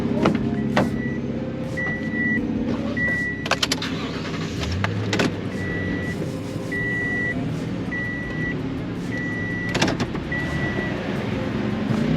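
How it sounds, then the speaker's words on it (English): A car is started and moved forward, with a low engine and vehicle rumble, repeated steady warning beeps, and a few sharp clicks and clunks, heard close and without talking. "Let me move the car forward."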